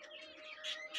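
Birds chirp and tweet at a busy animal market in Mirpur 1, Dhaka, where pigeons of various mutations are sold, giving a dense run of high calls that swell louder toward the end of the one-second stretch.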